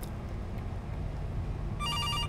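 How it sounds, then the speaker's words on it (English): An old telephone rings in the kitchen in the horror video game September 7th, a faint trilling bell that starts near the end over a low steady ambient hum. "Is that not the phone?"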